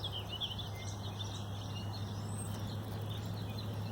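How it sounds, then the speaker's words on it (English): Scattered woodland bird calls and chirps in the distance over a steady low hum and constant outdoor background noise along a trail; no one speaks. "I can hear a lot of different bird song"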